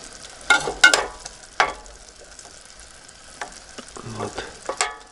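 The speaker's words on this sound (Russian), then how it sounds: "Так что сейчас еще дальше буду обжаривать" Food with potatoes and water sizzles and crackles in a pan, with a few louder scraping stirs and clinks scattered through; no talking.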